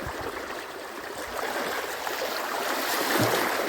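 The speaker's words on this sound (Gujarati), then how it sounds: "હા જો એટલું એટલું પાણી તણાવ કરે છે જુઓ" Strongly flowing stream water rushes in a dense, continuous wash, close and steady, growing slightly louder toward the end, with no voices.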